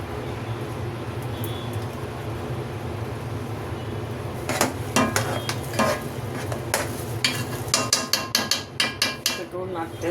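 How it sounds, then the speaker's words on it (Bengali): Chana dal halwa with jaggery being stirred in a pan: a steady low cooking rumble, then from midway a run of sharp, close scraping clacks of a spoon against the pan, quickening toward the end. "নাড়তে হবে।"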